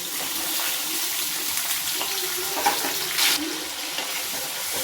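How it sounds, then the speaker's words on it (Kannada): Capsicum frying in hot oil in a home kitchen for paneer butter masala, a steady close sizzle with faint stirring and a brief louder hiss partway through. "ನೋಡ್ರಿ, ಫ್ರೈ ಆಗತೈತಿ."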